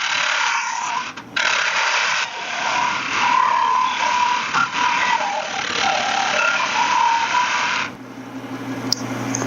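A woodturning hollowing tool cutting into a spinning wooden vase on a lathe, a steady scraping, rasping drone that runs continuously with small fluctuations before cutting out near the end, leaving a low machine hum.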